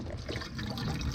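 Leftover liquid pours into an RV sink drain during waterline winterizing, a brief quiet splashing trickle.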